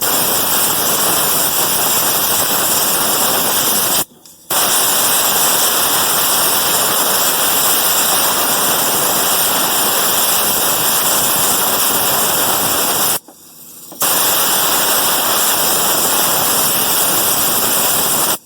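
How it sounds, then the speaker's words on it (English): A loud, continuous gush of water pours steadily out of a 1963 Oldsmobile F85, broken by two brief silent gaps. "This seems like a never-ending amount of water coming out."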